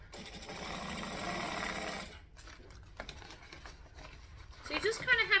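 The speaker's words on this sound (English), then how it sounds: "I do need to turn my machine on though, or we're not going to really get anywhere. We're going to stitch, we're going to back stitch." A domestic sewing machine stitches a handbag with a steady, close whirring run of about two seconds, then back stitches in shorter, uneven bursts while a person talks.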